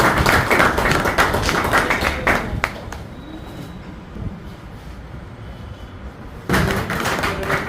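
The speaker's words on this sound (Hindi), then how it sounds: "उनके सम्मान में जोरदार ताली बजाकर उनका अभिनंदन किया जाए।" Audience applause at a quarterly award distribution ceremony: a loud, dense patter of clapping for about two seconds, then a quieter lull, then the clapping surges again near the end.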